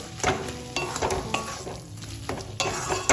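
A spatula stirring brinjal and drumstick flowers in a spiced pan, with repeated scraping strokes over a close, continuous sizzle and light clatter of the pan.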